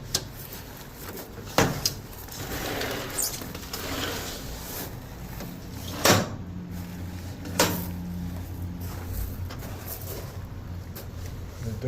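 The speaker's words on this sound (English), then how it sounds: "The door is hitting a little bit." An 8 ft sliding screen door knocks against its frame as it is moved, giving a few sharp thumps and rattles spread over the span, fairly close, amid quiet room noise with some scraping.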